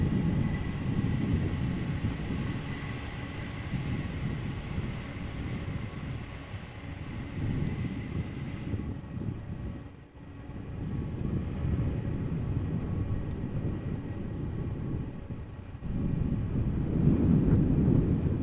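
An airliner rolls out after landing at Amsterdam Schiphol Airport, its engines producing a steady loud roar and rumble that dips briefly midway before swelling again, heard alone without talk.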